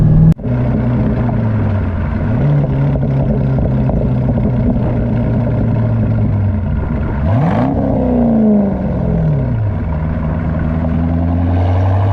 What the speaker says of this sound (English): The Borla exhaust sounds great on this car.